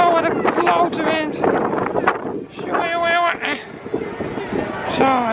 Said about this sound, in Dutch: wat een klote wind